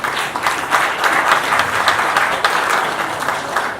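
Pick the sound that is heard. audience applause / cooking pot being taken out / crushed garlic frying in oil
audience applause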